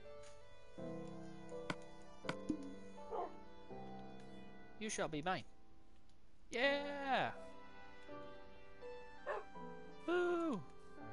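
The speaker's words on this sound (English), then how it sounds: "We have two dogs now. Two puppies." Minecraft dogs give high, short yips and whimpering barks in scattered bursts over a soft game soundscape, while a player talks excitedly in between.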